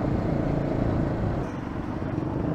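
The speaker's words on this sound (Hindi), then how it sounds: "ट्रैफिक है भाई, ट्रैफिक है" Steady low rumble of road traffic on the way to Mehrun Lake in Jalgaon, engines droning close by with a dip in level midway, no talk heard.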